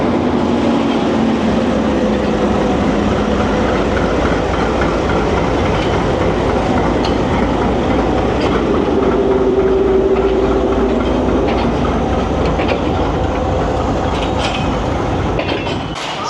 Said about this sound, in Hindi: अब ज़िक्रिया एक्सप्रेस अपने लंबे सफ़र पर नवाबशाह स्टेशन से गुज़र रही है